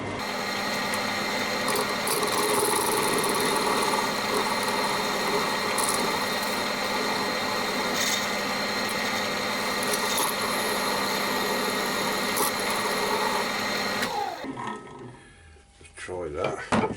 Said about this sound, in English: I'm just going in with my skew chisel and I'm going to take most of it off, so it still holds.